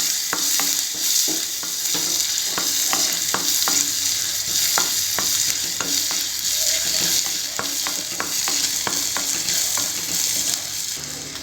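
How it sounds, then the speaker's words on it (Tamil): Chopped ginger and garlic fry in butter in a pan for broccoli soup, with a continuous close sizzle and repeated sharp scraping clicks as they are stirred. "நல்லா இதில் பட்டரில் ஃப்ரை பண்ணிக்குவோம்."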